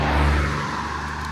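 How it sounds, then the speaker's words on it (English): Cars passing on a road in Bavaria, Germany, a broad rushing whoosh with low engine hum that swells and then fades slightly, loud and continuous, with no talking. "just excuse the cars going by"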